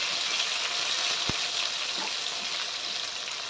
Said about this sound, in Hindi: इसे अच्छे से ब्राउन होने तक फ्राई करेंगे।